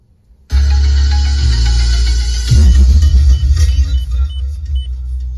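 A song blasts from the modified music system of a 2021 Maruti Swift, starting abruptly, loud and bass-heavy, filling the cabin with booming low end and a bright wash above.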